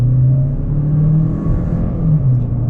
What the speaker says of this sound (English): And the vehicle gets up to speed, no problem.